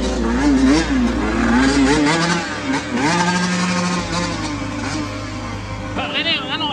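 Motorcycle engine revved in bursts during a throttle test, loud and close, with shifting pitch over steady idle while several people talk and shout nearby.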